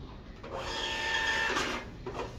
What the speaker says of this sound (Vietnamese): sau khi in, nó in tốc độ khá là nhanh. Sau khi in xong thì nó cắt ra cho mình như thế này, nó sẽ tự động cắt này